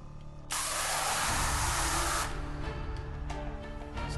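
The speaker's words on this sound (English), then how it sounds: "atomize liquid cream and spray it into subject's mouth" Liquid cream atomized and sprayed in one loud, close hissing burst lasting about two seconds, then trailing off into quieter spray and background noise.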